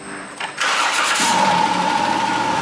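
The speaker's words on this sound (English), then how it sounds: "So let's go ahead and start the engine," A Dodge Caravan 3.3L V6 engine cranks briefly and catches, then settles into a steady, loud idle with a faint whine running through it.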